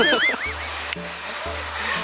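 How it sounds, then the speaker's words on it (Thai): A waterfall gives off a steady broadband rush close by, while people talk over it. "ถ่ายน้ำตกก่อน"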